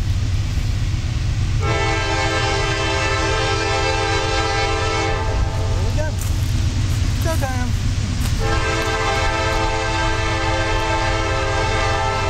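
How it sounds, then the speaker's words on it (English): Freight corn train led by Norfolk Southern locomotive 9561 climbing Richburg Hill into Richburg, South Carolina, on the Lancaster & Chester mainline: a steady heavy rumble of engines and cars with a loud, sustained horn sounding in long blasts. "LLC Corn Train 12 coming up out of the woods and coming up Richburg Hill into the town of Richburg, South Carolina."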